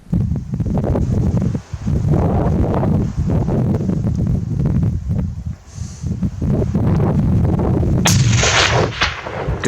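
Rifle fire at a bull tahr during a spring hunt on the east coast: loud, booming shots over heavy wind buffeting and rustling close to the microphone.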